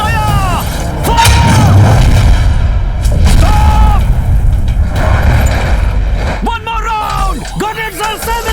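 Artillery guns fire in a war movie battle, a series of loud booming shots with rolling echoes, each blast followed by ringing decay, with more bursts near the end.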